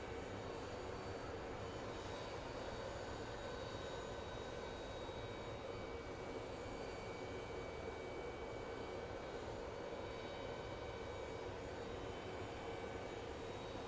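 Airbus airliner jet engines at Phoenix Sky Harbor airport, a steady, continuous broadband roar that holds evenly throughout at moderate distance, with no voices.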